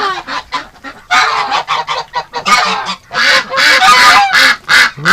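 Geese honk loudly and close inside a barn, a dense run of harsh overlapping calls in rapid bursts with short gaps, mixed with some duck quacks.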